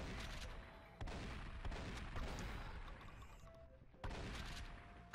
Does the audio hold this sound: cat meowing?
no